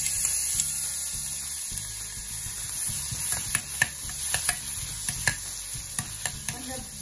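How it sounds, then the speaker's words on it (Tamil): Garlic frying in melted butter in a pan for pizza sauce, a steady close sizzle broken by repeated scraping and tapping of a spoon being stirred through it. "கொஞ்சம் ஃப்ரை ஆகட்டும்."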